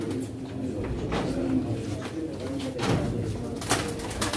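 Domestic pigeons coo repeatedly at a pigeon auction, soft low calls overlapping amid background bustle and occasional voices.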